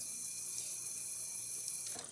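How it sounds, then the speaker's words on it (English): Hot water runs from the right-side spout of a La Marzocco GS3 espresso machine in a steady, quiet hiss and trickle, alone, with a high whine of the machine behind it. "And then of course hot water on this right side."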